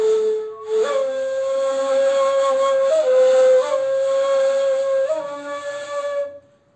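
A breathy Turkish ney reed flute, blown with advanced expressive technique, plays a sustained, wavering melody with slides and pitch bends, airy hiss around the tone, alone and fairly close.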